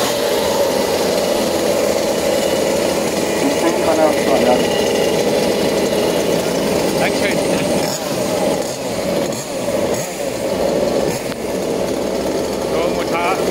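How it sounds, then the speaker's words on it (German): Large scale RC short course cars at a German championship final have their engines running, a loud continuous buzzing drone with revving surges, under someone talking. "So, Motoren sind warm."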